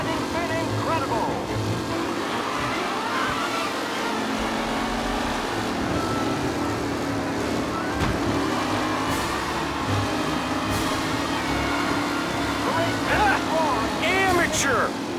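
Race cars roar around a track in Mafia: Definitive Edition, engines droning steadily with overlapping whines and passing revs throughout, while a commentator talks over the racing.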